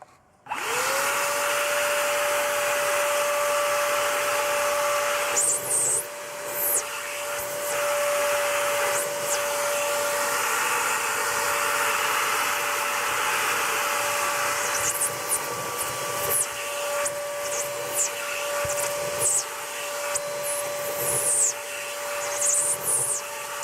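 A cordless battery-powered vacuum cleaner from China runs steadily and loudly with a high whine, its tone shifting briefly as it is pushed over surfaces.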